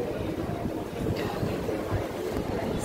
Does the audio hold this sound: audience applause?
no